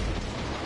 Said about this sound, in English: My stupid ass grenade killed me, bro.